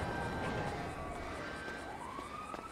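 A police siren wails faintly in the distance at an airport, its rising and falling tone drifting under steady traffic and ambient noise.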